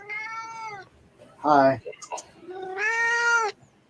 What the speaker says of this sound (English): That's my other cat.